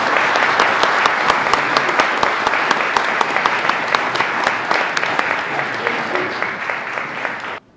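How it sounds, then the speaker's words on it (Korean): A crowd claps loudly to welcome presidential candidate Hong Joon-pyo of the Liberty Korea Party into a hall, with sharp individual claps standing out over a dense, continuous applause that cuts off abruptly at the end. "모두 큰 박수로 맞이해 주시기 바랍니다"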